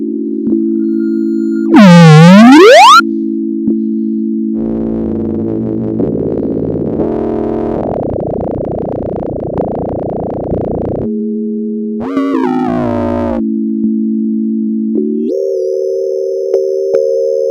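Believotron Wanderlust synthesizer using frequency modulation, a steady buzzing tone that keeps shifting: a swooping pitch sweep, gritty warbling FM stretches, sudden jumps and a bright high tone near the end, loud and continuous with no talk.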